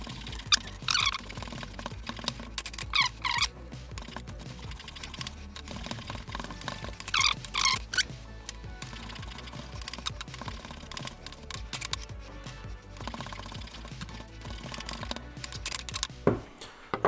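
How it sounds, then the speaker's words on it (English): Knife dicing 400 grams of white fish for a catch-and-cook meal at North Shields Fish Quay, sped up into a rapid, busy stream of clicking chops and taps on a board, steady and close throughout with no talk. "you don't really want to watch me cutting up 400 grams of white fish"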